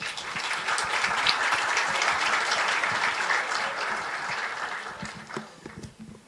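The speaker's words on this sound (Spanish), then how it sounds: "lo recibimos con un fuerte aplauso." Audience applause at the TelCoConf2025 conference welcoming a speaker to the stage: a steady, dense wash of many hands clapping that holds for several seconds, then thins out and fades as it ends.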